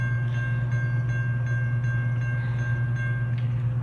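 A Norfolk Southern freight train, P60, draws near on the S line by a wye, its low steady rumble and faint whining tones holding constant and close throughout with no voices.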